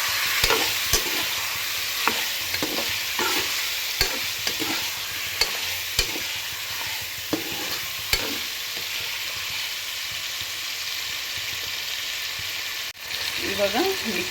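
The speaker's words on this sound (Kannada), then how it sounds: "ಇದಕ್ಕೆ ಉಪ್ಪು ಮತ್ತು ಅರಿಶಿನ ಹಾಕಿ ಒಟ್ಟಿಗೆ ಇದನ್ನು ಫ್ರೈ ಮಾಡಿ" Biryani masala with salt and turmeric frying in a pan, a steady close sizzle broken by repeated scraping stirs at a regular rhythm, alone without talk.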